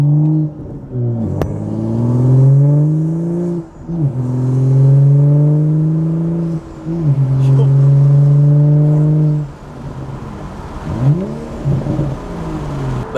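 BMW 435i fitted with a catless downpipe exhaust, revving hard in repeated loud bursts that climb and fall, with short pauses between them and a deep, throaty tone up close.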